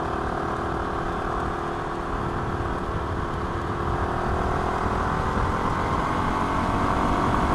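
A Kawasaki KLR 250 with a rebuilt carburetor cruises in fifth gear, its engine a steady, unbroken drone under constant wind rush.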